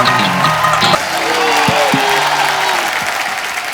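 A studio audience on a comedy show applauds to welcome a composer duo, loud sustained clapping with crowd noise and faint music tones underneath.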